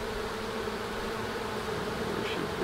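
Honeybees at an urban beehive give off a dense, continuous buzzing hum, close and steady throughout, with no speech.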